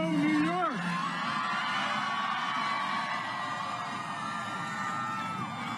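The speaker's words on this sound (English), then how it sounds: "What a great crowd." A large college crowd at a presidential campaign rally at Sarah Lawrence College in Yonkers, New York cheers, whoops and yells continuously, with loud voices shouting over a dense roar of applause.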